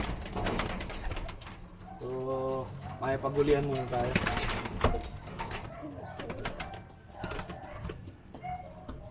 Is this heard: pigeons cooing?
yes